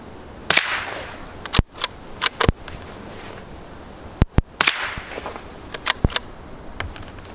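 Rifle shots from two .22 bolt-action rifles, a Ruger American and a Savage MK II, loaded with subsonic ammunition, fired outdoors at targets; about ten sharp, loud cracks come singly and in quick pairs with short gaps between them.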